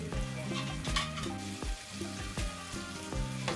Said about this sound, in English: Now fry the pepper.